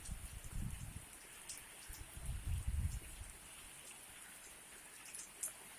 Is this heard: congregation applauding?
no